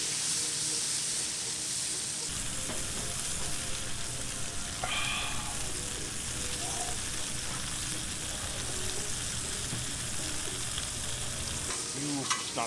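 Food sautés and sizzles on a Blackstone griddle while being stirred and moved with a spatula, steady frying hiss with occasional scraping clicks, fairly quiet and without talk.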